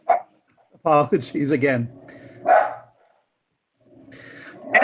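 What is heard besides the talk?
dog barking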